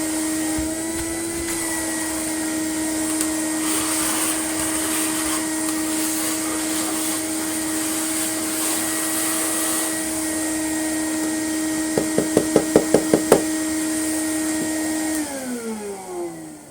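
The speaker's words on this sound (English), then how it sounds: "So I'm just going to shove the vacuum up it and bash it about." A Vax Mach Air vacuum cleaner being cleared of a clog runs loudly and steadily with a constant high whine, briefly rattling with rapid knocks near the end before it winds down.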